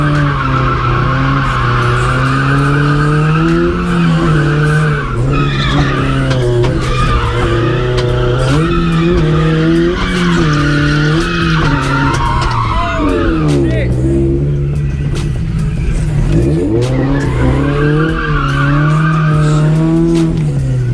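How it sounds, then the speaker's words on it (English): A Scion FR-S street drifting, its tires squealing and skidding in long, loud, wavering whines over a roaring engine, with the pitch sliding up and down through the slide. People talk over it. "he was street drifting and he ended up hitting a wall"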